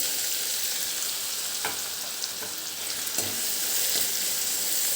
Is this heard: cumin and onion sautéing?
yes